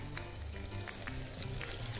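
Tuna balls fry in oil with a steady, close hiss and crackle that holds throughout at an even level. Small pops come through it now and then, and no one speaks.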